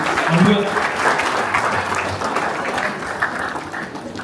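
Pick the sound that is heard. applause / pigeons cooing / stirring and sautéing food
applause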